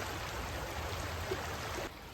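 A small river flows past snowy banks in a park, a steady rushing, gurgling wash of water that holds evenly, then softens near the end, with no talking.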